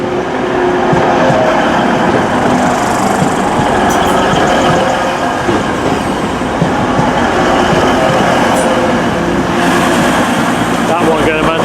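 Class 185 train arriving at a station: a loud continuous rumble of rolling wheels and engine drone with clicks of rail joints, heard close throughout.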